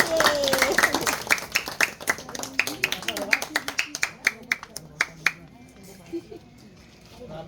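Hand clapping at a neighborhood Iglesia ni Cristo gathering, a run of sharp distinct claps that thins out toward the end, with people talking and murmuring underneath.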